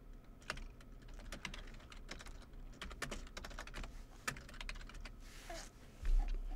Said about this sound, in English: go ahead and press Other, and then type in the reason